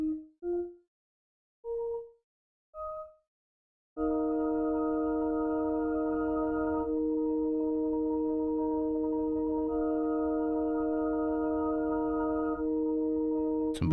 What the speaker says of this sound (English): I'm gonna go into pads and strings, and I'll look for a preset that I like